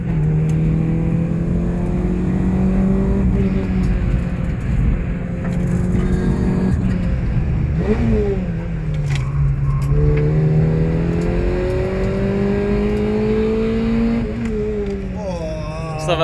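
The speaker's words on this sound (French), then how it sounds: "Voici le premier tour du circuit à bord de la 106." A Peugeot 106 race car with a swapped engine laps a circuit, heard from onboard as a loud, steady engine drone that climbs and falls through gear changes and braking, nearly unbroken for the whole stretch.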